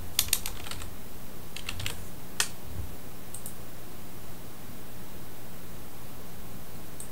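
Rapid clicking of keys on a computer keyboard, close and clear, in steady bursts with short pauses over a faint background hiss; no voices.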